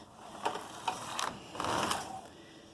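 A knitting machine runs on normal knitting settings while knitting leggings, its carriage sliding across the needle bed in a few swishing, clicking passes, close and moderately loud with no talk.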